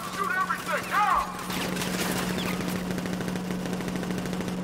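Rapid automatic gunfire in the Batman: Arkham Knight video game rattles on steadily, starting under a character's shouting and continuing alone after the voice stops.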